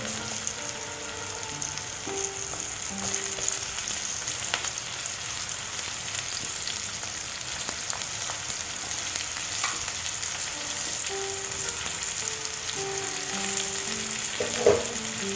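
Chopped capsicum pieces fry in a hot pan, a steady close sizzle with occasional spatula taps and scrapes, plus a sharper clatter near the end, no voices heard.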